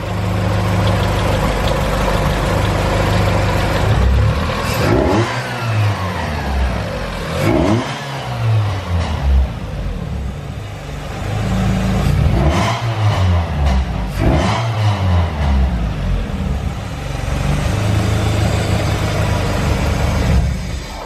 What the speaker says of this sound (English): So we got the car running and everything seems to be working the way it should.